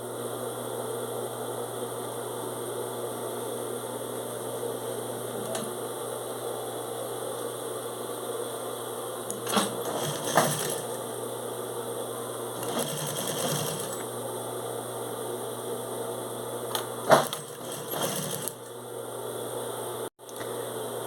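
A sewing machine stitching bias binding onto a shoulder bag runs in a steady, close mechanical whir with brief pauses and a short stop near the end.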